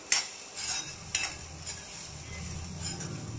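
A spicy potato fry with salt is stirred in a pan: a few sharp scraping strokes over a soft, steady sizzle, close up, with no talking.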